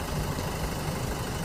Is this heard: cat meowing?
no